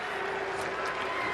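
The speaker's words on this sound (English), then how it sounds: "smattering of applause and a few boos from the crowd here" Smattering of applause mixed with a few boos from the crowd at the end of a 2004 NBA playoff game between the Indiana Pacers and Boston Celtics, a distant, diffuse wash of arena noise.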